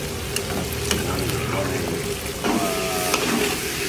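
Tofu frying in a pan sizzles continuously at close range, with stirring noises and a voice faintly present in the background.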